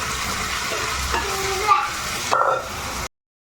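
Onions and marinated chicken fry in a pan for a dhaba-style hariyali green chicken curry, a steady close sizzle with a couple of stirring scrapes, and the sound cuts off abruptly near the end.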